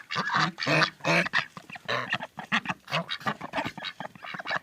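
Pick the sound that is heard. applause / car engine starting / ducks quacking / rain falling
ducks quacking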